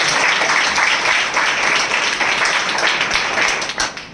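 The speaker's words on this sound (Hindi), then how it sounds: "हम जोरदार तालियों से उनका स्वागत करें।" Loud applause from a church congregation welcoming believers at a spiritual passion assembly, sustained close clapping from many hands that tapers off with a few scattered claps at the end.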